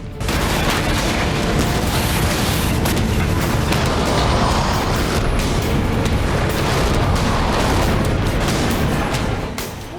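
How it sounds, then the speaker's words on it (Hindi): Bombs dropped from the sky explode in a relentless, loud barrage of booms and crackling blasts, dense and continuous throughout without pause. "आसमान से बरसते बम।"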